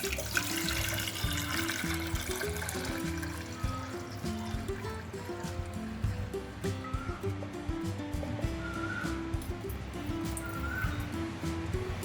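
Water is poured off soaked sorghum to leave the settled starch behind, a steady close trickle and splash running for the whole stretch, with a faint background hum and no talk.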